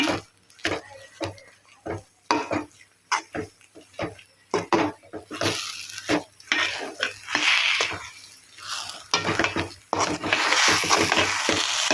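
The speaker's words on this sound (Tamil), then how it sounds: "முந்திரியும் சேர்த்து நல்லா கிளறி கொடுங்க" A wheat rava kesari with cashews is stirred briskly in a pan, giving rapid, uneven scraping and clattering with light sizzling, close and fairly loud, with some frying hiss building toward the end.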